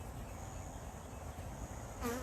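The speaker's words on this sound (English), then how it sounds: "whenever you get this many bees around your head" A swarm of honey bees buzzing close around a beekeeper's head, a steady, near, droning hum with a brief louder burst at the very end.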